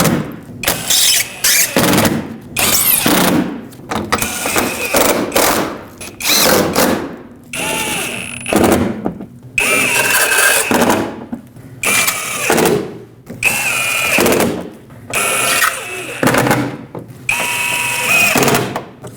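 A power tool drives the exhaust manifold bolts on a 2015-2020 GMC Yukon. It whirs and ratchets loudly in repeated bursts of a second or two each, with short pauses between them.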